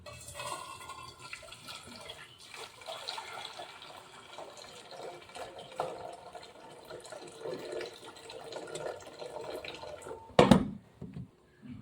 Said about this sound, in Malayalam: ആദ്യം കുറച്ച് വെള്ളം ഊറ്റി കളയണം